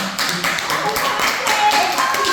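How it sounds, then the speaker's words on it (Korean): An audience claps in agreement at a talk on speaking and living with humour, a steady, fairly loud clatter of hands with faint voices beneath. "동의하시는 분들께 박수 한번"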